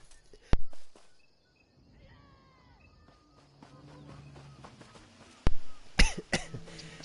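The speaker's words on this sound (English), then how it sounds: "I had to cough." A person coughs sharply a few times, loud and close, with throaty clearing sounds between bursts over a quiet background and scattered small noises.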